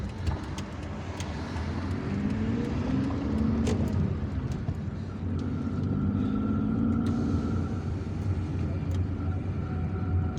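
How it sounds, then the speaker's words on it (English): Steady weekday city traffic on an Algiers street, heard from a moving car: a continuous engine and road rumble with passing vehicles and occasional short sharp clicks. "There is permanent traffic here on an ordinary weekday"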